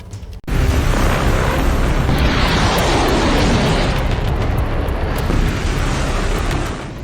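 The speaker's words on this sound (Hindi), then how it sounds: "ठीक इसी तरह धमाकों के साथ सुबह होती" Heavy explosions from the Israel-Hezbollah war break out after a short silence into a loud, sustained roaring rumble that stays dense and close before easing slightly at the end.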